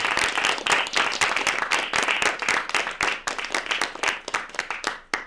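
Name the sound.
studio audience applause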